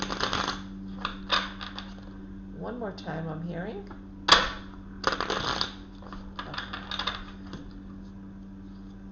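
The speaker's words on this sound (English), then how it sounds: "I'm going to shuffle these cards now for water signs." Soft riffling and flicking bursts of tarot cards being shuffled come in several short rounds, with a person speaking briefly between them.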